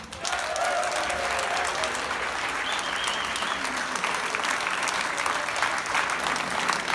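An audience gives sustained, dense applause for the band, a steady wash of many hands that holds level throughout, with faint voices mixed in.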